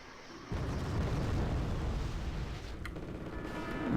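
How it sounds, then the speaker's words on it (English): A missile blast in the Wargame Airland Battle strategy game lands as a sudden loud boom, then a sustained rumbling roar that rolls on for several seconds at a steady, heavy level. "That was a missile."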